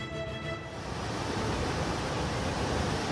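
Enormous ocean waves from a tsunami set off by a submarine earthquake after a volcanic eruption, heard as a dense, steady roar of surf and rushing water that stays loud throughout with no speech.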